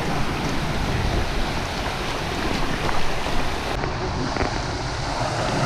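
Rushing water at Lesbeng Falls in Ansipsip, Nueva Vizcaya, a steady broadband roar that stays constant and fairly loud throughout, with no voices.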